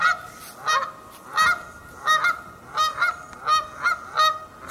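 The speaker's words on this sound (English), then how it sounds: "And you can hear the geese now." Geese honk repeatedly in loud, rhythmic bursts, roughly seven calls spaced evenly, with a faint outdoor background of early-spring wetland between them.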